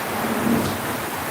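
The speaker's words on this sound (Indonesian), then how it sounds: "Langsung hujan selebat-lebatnya." Heavy rain hisses steadily while a low roll of thunder rumbles briefly underneath, a short dense burst of storm sound.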